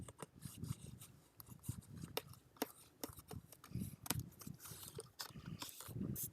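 Fingernails pick and scratch at packing tape on a box to find its end, a close run of dry, irregular scraping clicks and rustles.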